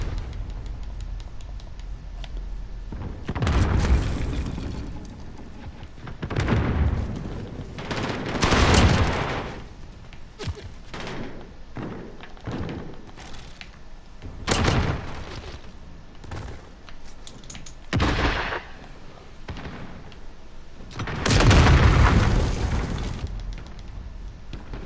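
Grenade-launcher blasts from Call of Duty: Modern Warfare: several loud, booming explosions burst out at uneven intervals. Lighter gunfire crackles in the gaps between them, and no one speaks.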